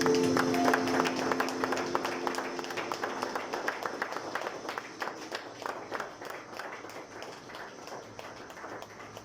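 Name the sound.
congregation applauding in gratitude to the Lord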